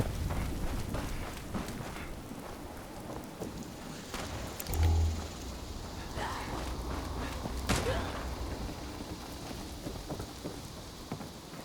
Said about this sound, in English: it's actually raining